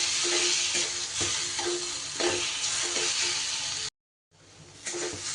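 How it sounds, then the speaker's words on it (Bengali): Yardlong bean bharta sizzles and is stirred in a frying pan, a steady close hiss with scraping stir strokes, briefly cut off before resuming. "এবার আরও আমি প্রায় মিনিট 2 ধরে ভালো করে এটাকে ভাজা ভাজা করে নিলেই আমার কিন্তু তৈরি হয়ে যাবে আজকের বরবটি ভর্তা"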